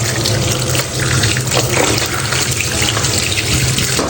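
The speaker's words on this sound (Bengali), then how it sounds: "ওটা এখন ভালো করে একটু ভিজিয়ে রেখে পরিষ্কার করে ধুয়ে নেব।" Tap water runs hard into a kitchen sink as something is washed and rinsed, a loud, continuous splashing flow with small shifts in its spatter, with no talking.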